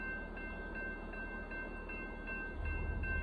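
A northbound Union Pacific gravel and hopper car train, led by unit 1988, passes Stassney Lane as a steady low rumble that swells louder near the end, with faint tonal ringing above it and no talk.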